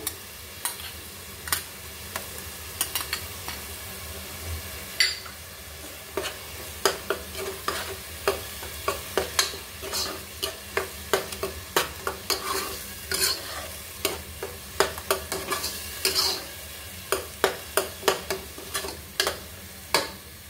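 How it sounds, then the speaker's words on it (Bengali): Green chili paste frying in a pan gives a low continuous sizzle, broken by frequent sharp, regular scrapes and taps of a spoon stirring it, close and without voices. "কাঁচামরিচ বাটা দিয়ে দিচ্ছি।"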